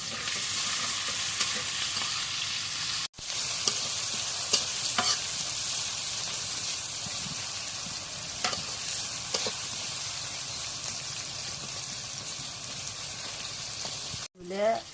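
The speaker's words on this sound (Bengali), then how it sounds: "এখন পরে এর মধ্যে তেল দিই। এখন নাড়া দিই।" Hot goat fat sizzles steadily in a pot while a spoon stirs it for pulao, with a continuous bright frying hiss, occasional scraping strokes and a couple of sharp breaks, close up.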